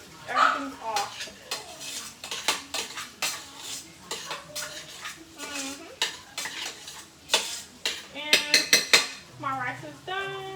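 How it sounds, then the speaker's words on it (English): A utensil stirs food into rice in a metal pot, scraping and clinking in irregular strokes up close, ending with a few quick taps against the rim. "I stir everything into my rice."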